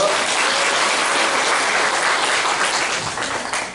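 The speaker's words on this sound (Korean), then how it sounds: "박수 청해 주십시오" Sustained applause from an audience at a Korean event as a husband from Côte d'Ivoire is welcomed, steady dense clapping filling the room and tapering slightly at the end.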